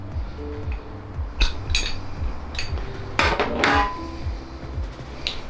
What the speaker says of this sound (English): I got a socket on just on an extension here, and we should be able to kind of push that down there into place.